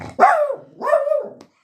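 A pet dog named Tobe gives two drawn-out, whining barks, each about half a second long with a short gap between them, close and fairly loud, with no one talking over it.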